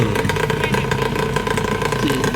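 A Yamaha 125ZR motorcycle engine revs loudly and continuously at close range, with dense rapid pulsing throughout and no talk.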